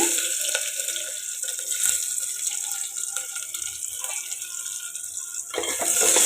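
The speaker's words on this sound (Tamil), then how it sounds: "எண்ணெய் காஞ்சதும் கடுகு போட்டுக்கலாம், சின்ன வெங்காயம் போட்டுக்கலாங்க" Mustard seeds and small shallots sizzle in hot coconut oil in a pan for a South Indian greens dish. The frying makes a loud, steady hiss with crackles and pops close by, easing briefly before surging again.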